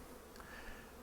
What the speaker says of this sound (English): I've got bees already trying to get in the truck, some bees trying to get out.